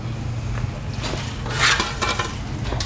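Rice and oil going into a cooking pot for Afghan Uzbeki pulao, heard as scattered clinks and light scraping of utensils against metal with a soft pour, close by amid a low background hum.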